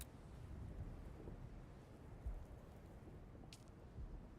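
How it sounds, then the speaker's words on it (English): Ornithopter engine in the video game Dune Awakening, a steady low rumbling drone with a windy roar that holds evenly throughout at moderate level, with no talk. "It is a thopter engine."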